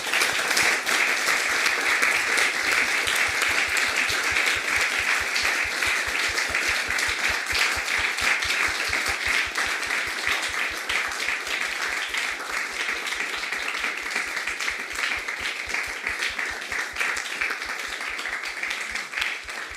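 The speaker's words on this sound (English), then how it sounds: "a last round of applause" A conference audience applauding its speakers steadily for an extended stretch, dense clapping that holds at an even level and tapers slightly near the end.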